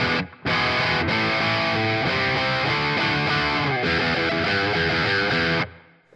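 Distorted electric guitar through a Joyo Preamp House pedal on its dual rec amp model, a lower-gain tone, playing a sustained riff of chugging chords and melodic notes, loud and alone with no talk.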